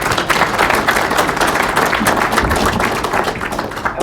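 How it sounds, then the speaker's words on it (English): Applause from a small audience at a club meeting: a dense, steady patter of many hands clapping close by, lasting about four seconds with no talking over it. "So let's give Mike a round of applause"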